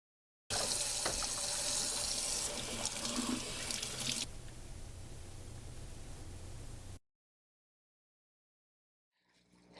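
Water runs from a tap into a pressure canner for canning tuna, a steady loud hiss and splash that stops abruptly after about six seconds, followed by silence.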